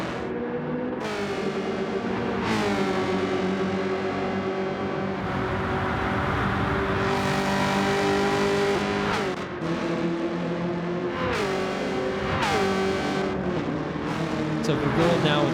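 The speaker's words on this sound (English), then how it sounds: "So Show Me really pushing the car to the limits." Race car engines in a racing video game, revving and shifting repeatedly with rising pitches and gear changes over about fifteen seconds, loud and close, with commentary spoken over the top.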